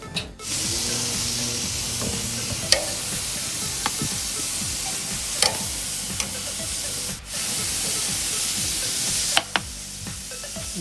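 Marinated lamb shawarma sizzles steadily on a hot grill at about 400 degrees, a constant close hiss and crackle with a few sharp pops and no talking.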